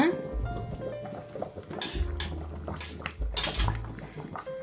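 Metal spoon clinks and scrapes inside a pot of cooked milk dish, several short knocks against the rim with some clatter, close by.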